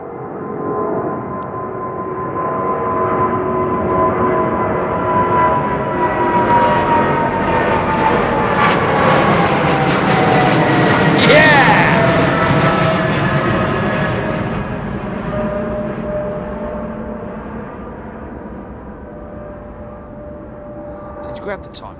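Qatar Airways Airbus A380 taking off at Heathrow, a loud, close engine roar that swells to a peak and slowly fades as the jet passes and climbs away.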